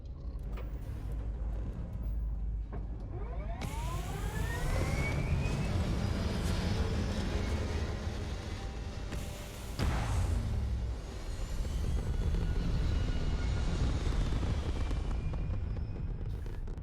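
A spaceship lifts off in the video game Starfield: a loud, continuous roaring rumble with rising whines and a sharp burst midway, swelling again as it climbs, with no voices.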